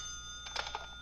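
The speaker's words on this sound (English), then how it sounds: "That's my phone." A telephone rings briefly in a quiet indoor room, a few short bright bursts of ringing over a steady low hum, with no talk.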